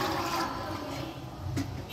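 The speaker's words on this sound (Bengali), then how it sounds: "পরে জল দিয়ে দিই।" Water poured into a pot of soaked peas for ghugni, a steady close rushing gush that runs for about two seconds without speech.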